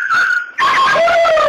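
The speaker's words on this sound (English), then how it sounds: "You're about to hear the sound of Anderson using the heart stick on a dog that had not been sedated." An unsedated dog in distress while being euthanized by heart stick, giving a loud, close, sustained high whine that breaks off briefly and then resumes as strained, wavering cries.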